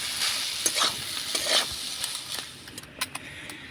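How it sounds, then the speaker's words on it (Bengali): Potatoes frying with spices in a pan hiss under a steady sizzle while a spoon stirs and scrapes in irregular close clatters. "এবার নাড়াচাড়া করে ভালো করে মশলার সঙ্গে আলুটাকে কষিয়ে নেব।"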